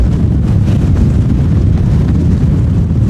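Steady, roaring nor'easter wind at 6,000 feet buffets the microphone with a constant low rumble and no letup, loud and close throughout.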